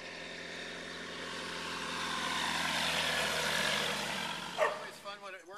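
Kitfox 912S light aircraft flying a circuit on its first flight, a steady propeller-engine drone that swells and fades as it passes, with brief bumps of nearby noise near the end.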